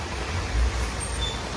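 Bus driving along a rain-soaked road in Mumbai, a continuous low rumble of the engine and tyres with a dense wash of traffic and rain noise, no voices.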